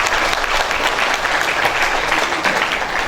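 Audience applause at an eighth-anniversary Perisai Diri martial arts branch celebration, steady dense clapping filling the hall for about three seconds with no talk over it.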